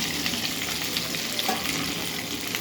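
Cut khandvi pieces frying in a tempering with curry leaves, a continuous close sizzle with soft stirring rustles throughout and no talking.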